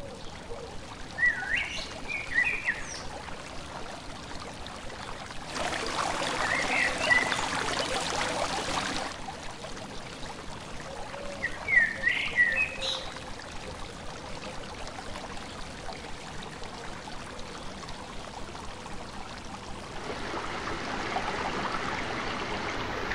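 A calm river flowing near Saint George monastery, with a gentle continuous rushing and trickling wash of water heard from a distance, with occasional bird chirps above it and no speech.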